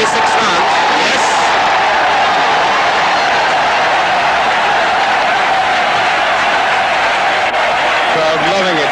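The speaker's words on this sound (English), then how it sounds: "Crowd loving it." A crowd at a 1987 India vs New Zealand World Cup cricket match cheers and applauds, a loud, sustained roar and clapping that fills the whole stretch without letting up.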